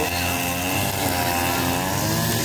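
A high-pitched brush cutter motor whines steadily and loudly throughout, close by, running without pause while clearing vegetation.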